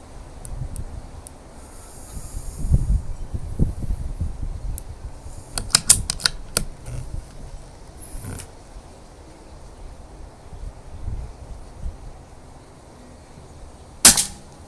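An air rifle firing BSA pellets at a target: quiet mechanical clicks and handling sounds build up before a single sharp, loud crack near the end.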